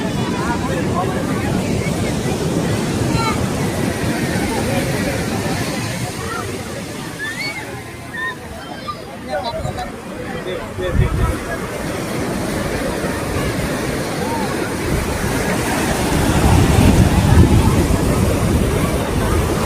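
Sea surf washing onto a crowded public beach at Somnath, a steady loud wash of waves and sloshing water with wind buffeting the microphone, swelling near the end, while people talk nearby.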